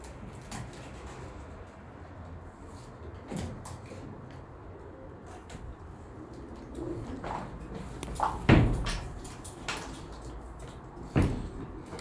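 Pigeons coo softly in an enclosed loft, with scattered knocks and faint rustling around them.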